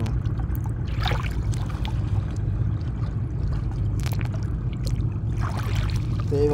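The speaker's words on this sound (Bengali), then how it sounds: "এখানে ঢেউ আসতেছে দেখছেন কিভাবে ঢেউ আসে" River waves wash steadily against the bank of a village river, a continuous low rumbling wash broken by occasional splashes, close by with no talking.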